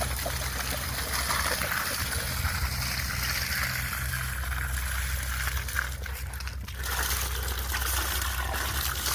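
Irrigation water flowing into a banana plant field on an organic farm, a soft steady trickle and gurgle running continuously at low level with faint background noise.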